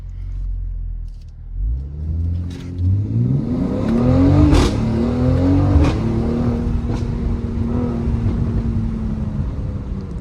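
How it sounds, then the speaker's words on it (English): A Mercedes-AMG GLC with its exhaust open in manual mode builds revs during a brake boost in an enclosed space, a loud, close engine note rising steadily, then holding a high drone. "Pop it in manual mode, get that exhaust open."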